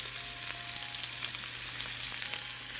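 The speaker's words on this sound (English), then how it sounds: "I'm gonna cook the steak for about 40 seconds to a minute. Throw the garlic in." Steak and garlic frying in a hot pan give a steady, close sizzle and crackle with small pops, heard alone without talk.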